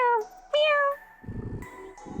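Cartoon cat meows from the Kitten Burst video game, two bright rising-falling meows in quick succession, followed by a low rumbling burst and a brief higher tone, fairly loud and with no talk.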